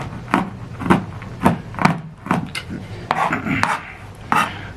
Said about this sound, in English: I'm just chopping these so they're not